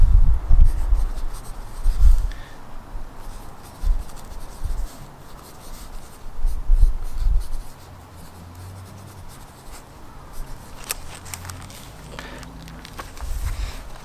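A fire starter pencil scratches across paper in short, irregular strokes, soft and close, with bursts of scribbling followed by quieter pauses and light handling rubs, no voice heard.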